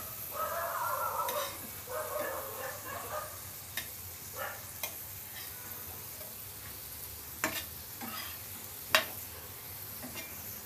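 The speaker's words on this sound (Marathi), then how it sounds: "दुसऱ्या बाजूने पण भाजून घेऊया" Potato slices frying in a pan, a steady soft sizzle close by with occasional scraping and tapping as the slices are turned, no talking.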